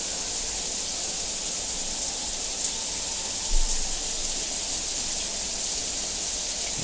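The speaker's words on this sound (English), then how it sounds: "So there you go, it's the rain shower." A hotel rain shower head runs steadily, a continuous broadband hiss of falling water held at an even level, with one small knock partway through.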